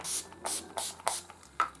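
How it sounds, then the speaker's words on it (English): Urban Decay All Nighter makeup setting spray is misted in several quick, close pumps, each a short hiss with brief gaps between them. "The only thing I'd potentially do now is take my Urban Decay All Nighter spray."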